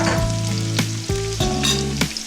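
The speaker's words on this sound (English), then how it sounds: "Let me saute all this." Steady, loud sizzling of garlic and pork sautéing in a pan for Filipino menudo, with a few sharp clinks and scrapes as it gets stirred.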